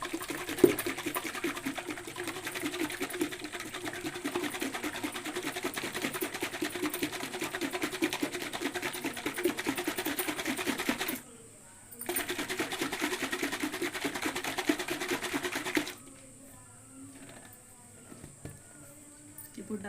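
A closed container of salted buttermilk is shaken hard, giving a continuous rapid sloshing rattle that runs steadily, breaks off briefly, resumes, then stops into near quiet.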